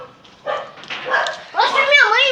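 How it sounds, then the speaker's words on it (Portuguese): A dog named Hannah at a neighbour's house gives a few close yips and whimpering barks, rising into a longer whining bark, with voices talking nearby. "aquela casa que tem o cachorro ali, é a casa do João"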